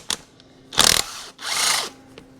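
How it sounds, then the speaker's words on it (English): A power tool backs out bolts on a John Deere 4020 tractor during a split for PTO clutch repair, two loud whirring bursts with a sharp tap before them, close up and without talk. "I'll take these smaller bolts out first, now that the big ones are loose."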